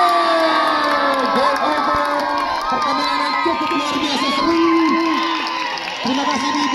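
A large indoor crowd at a badminton semifinal cheers and shouts loudly, many voices including children yelling at once in a sustained roar.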